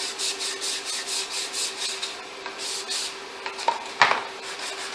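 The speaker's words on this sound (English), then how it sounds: "We're going to run a sandpaper over a dowel through this." Sandpaper wrapped over a dowel is rubbed back and forth through a routed wood groove for a valet tray, a rhythmic scratchy rasp repeating about twice a second, followed by a few light knocks and clicks.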